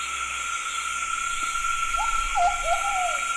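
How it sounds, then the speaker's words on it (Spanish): A Plumbeous Pigeon in San Cipriano forest gives a short run of soft, low cooing notes in the second half, over a steady high drone of insects and frogs. "Plumbeous Pigeon, Patagionas Plumbea."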